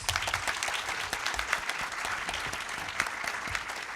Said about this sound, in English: We have a round of applause for our panelists, please.